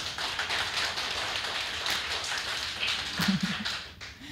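An audience at a Ramadan break-the-fast gathering in a provincial communications office clapping hands, a sustained patter of many claps that thins out near the end.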